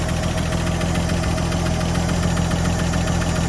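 A 1958 Chevy Delray engine idling, a steady low rumble with a constant mechanical vibration and slight knock, close up and continuous throughout.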